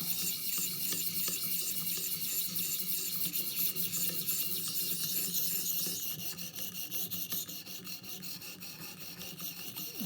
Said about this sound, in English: stropping and lapping